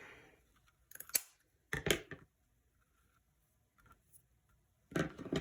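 Scissors snip through ribbon for a chalk-craft door tag, a few sharp close cuts in short bursts separated by quiet pauses, no talking.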